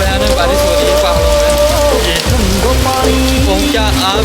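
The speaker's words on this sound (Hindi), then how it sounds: "बहुत भयानक बारिश हो रही है पहाड़ों" Heavy rain pours down in the mountains, a dense, loud, continuous hiss of drops hammering surfaces, steady throughout with no pauses.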